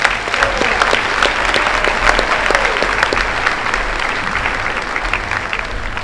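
An audience at the Fort Cherry Class of 2016 graduation applauds the school board members with sustained, dense clapping that stays loud and steady throughout, without speech.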